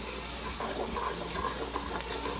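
Chopped onion and garlic frying in a pan for Greek-style rice, giving a steady, close sizzle with faint crackles that continue throughout.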